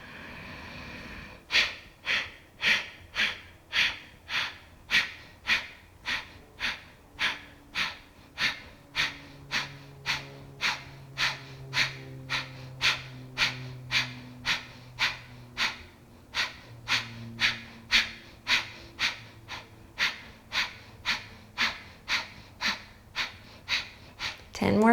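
Slow, deep rhythmic breaths during a yoga pranayama practice, a steady run of about forty strong inhale-exhale cycles, close and loud, with a faint low voice murmuring underneath.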